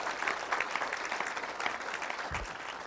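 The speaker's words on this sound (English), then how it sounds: "let's give Simmons Bank and all of our great sponsors a round of applause" An audience at a football touchdown club luncheon claps for the event's bank and other sponsors, a moderately loud, steady burst of applause lasting about three seconds with a brief low thump near the end.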